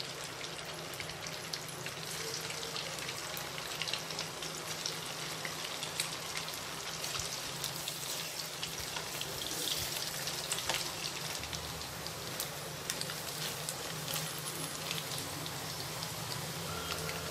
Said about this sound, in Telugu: ఇదే విధంగా అన్నీ మళ్ళీ వేసి ఫ్రై చేసుకుందాము.